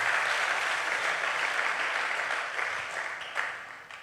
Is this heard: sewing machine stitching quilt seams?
no